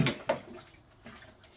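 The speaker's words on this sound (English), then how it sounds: "Just stirring the second bag in, making sure we're getting no dough balls in there" Malted grain is stirred into mash water while brewing beer, giving close, soft wet swishes and sloshes, with a couple of clearer stirs early on before it settles into quieter churning.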